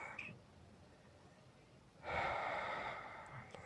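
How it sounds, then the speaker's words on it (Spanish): A slow, deep breath fills the chest, then a longer, louder exhale follows, close and soft against a quiet background. "Vamos a respirar, inflar el pecho primero y al momento de exhalar"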